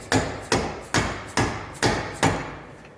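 A dead blow hammer drives a yoke onto a Dana 35 axle pinion, giving six evenly spaced, solid thuds about half a second apart, close and clear with nothing else heard.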